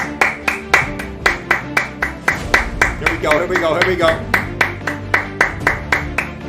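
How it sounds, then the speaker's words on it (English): A man claps steadily in an even, rapid rhythm, each sharp clap slightly off-mic and roughly evenly spaced, while he talks energetically over the beat. "I'm gonna clap outside the mic"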